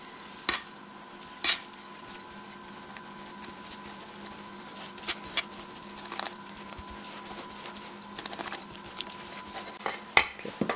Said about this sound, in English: we're going to pour this in there slowly and then start stirring it together